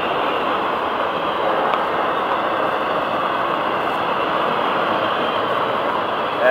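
An FEC freight train rolls past continuously, a loud, dense rumble and rail roar that holds steady and close throughout with no break.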